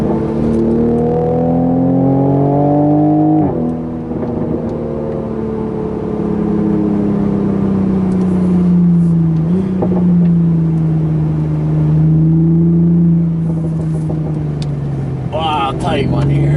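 A 2020 Toyota Supra pulls hard out of tight mountain corners, engine note climbing and falling in long loud sweeps with gear changes, some talk over the steady road roar.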